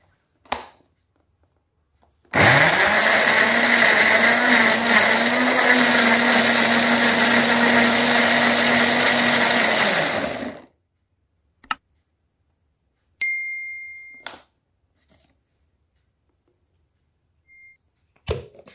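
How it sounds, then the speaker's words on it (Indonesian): An electric blender purees 500 grams of pineapple for jam, running loud and steady for about eight seconds before stopping, followed by scattered clicks and a short beep. "Ini mau saya haluskan dengan menggunakan blender karena saya mau buat selai yang halus"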